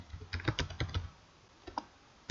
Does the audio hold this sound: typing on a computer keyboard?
yes